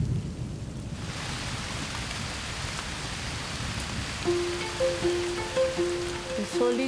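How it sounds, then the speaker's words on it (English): A sudden tropical downpour on the equator, with steady heavy rain hissing continuously and low thunder rumbling beneath, while bird calls chirp faintly toward the end. "Sudden downpours are the lifeblood of the equator."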